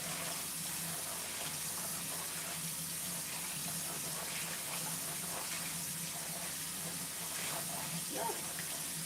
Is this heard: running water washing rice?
yes